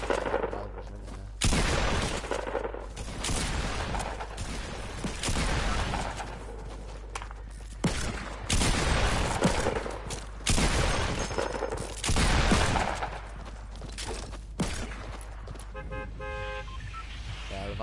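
Rapid gunfire bursts from revolvers in the video game Fortnite crack out repeatedly in loud, closely spaced volleys over a steady background hum, with a person talking now and then.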